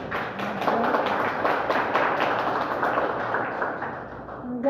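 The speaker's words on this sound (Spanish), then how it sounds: "Un fuerte aplauso" Audience applause closing a history lecture on the Chaco War and the Bolivian revolution, a dense, steady patter of many hands clapping for several seconds before fading slightly at the end.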